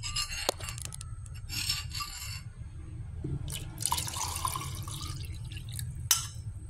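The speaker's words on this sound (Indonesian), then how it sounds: "Kita akan tuang." Liquid is poured while making a young coconut iced drink with milk, a steady splashing stream with dripping and light glass clinks throughout.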